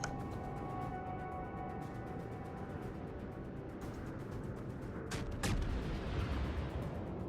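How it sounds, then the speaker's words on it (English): Naval guns fire in a broadside during a World of Warships battle, a couple of sharp booms near the end over a steady droning engine-and-sea background, with no talking. "Nelson's giving you a great broadside"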